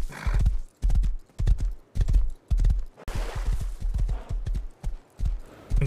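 A horse in a video game whinnies while its hooves clip-clop in quick bursts of close, distinct beats. The hoofbeats come in repeated clusters with short gaps, and a thicker rush of noise briefly fills the middle.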